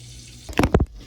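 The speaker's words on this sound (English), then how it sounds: "I'm about to drain out the water" Water poured off a pot of soaking potatoes in a kitchen, a short run of splashy gushes and trickles close by, rising briefly then stopping, with no talk.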